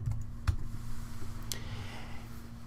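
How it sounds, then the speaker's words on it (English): A few light keystrokes on a computer keyboard click sparsely and quietly over a low electrical hum as a command is typed. "So just type git example."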